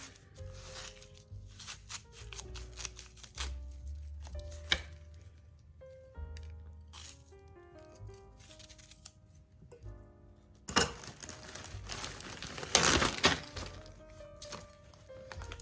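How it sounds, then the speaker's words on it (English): A knife chops an onion on a cutting board in a home kitchen, giving a run of close, crisp thunks in uneven rhythm, with a denser, louder burst of cutting toward the end. "And I'm going to cut up some onion."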